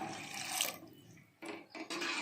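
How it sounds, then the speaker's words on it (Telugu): Water splashing and pouring in short bursts into a pot of tamarind pulp, stopping briefly between pours, close and moderately loud. "దీనికి చూసుకొని తగిన నీళ్ళు పోసుకోవాలా"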